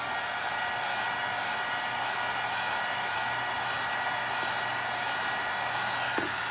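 A heat tool blows steadily while drying paint on a pink-and-black Easter craft door hanger, its broadband whoosh loud and unbroken throughout with no talking.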